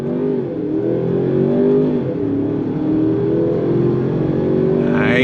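A 2025 Range Rover Sport Autobiography luxury SUV pulls away hard from a dead stop, its engine a loud, steady drone that climbs gradually in pitch over about five seconds, with no talking.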